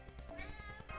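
A cat gives a single short meow, faint and close, with no other sound around it.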